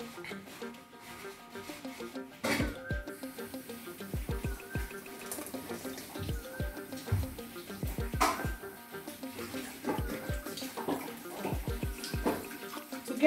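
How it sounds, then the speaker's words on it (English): Blended coconut, tiger nut and date mixture is sieved by hand to draw out the juice, giving a steady wet trickle and slosh with scattered sharp clinks and knocks, close up and with no talk. "This is our blended coconut, tiger nuts, and dates. We are about to sieve it to get the juice out of it."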